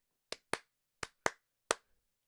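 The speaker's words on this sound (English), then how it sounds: "Claps." Five sharp hand claps in an uneven rhythm, close and crisp against silence: two quick claps, a pause, two more, then a last single clap.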